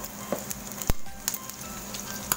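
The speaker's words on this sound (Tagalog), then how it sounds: "prito na natin ang baboy at saka atay" Steady sizzling of pork and liver frying in hot oil, with a few sharp pops and crackles scattered through.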